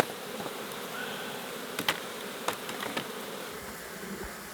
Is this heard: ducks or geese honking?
no